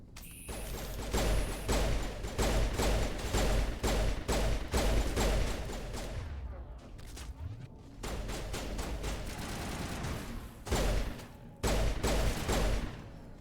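Rapid bursts of automatic gunfire in the video game Mass Effect: loud, dense volleys of shots in repeated clusters, broken by short pauses, with no talking.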